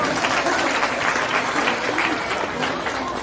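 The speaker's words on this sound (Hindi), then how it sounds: "तालियों के साथ महावीर जी का स्वागत करें।" A crowd gives dense, continuous applause welcoming a guest at a kalash yatra procession event in Ashok Vihar. The clapping is steady and close, with no break.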